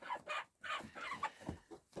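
Hens clucking outside a chicken coop on a small flock farm, a series of short, rhythmic clucks in close succession, fairly close and clear with no talk.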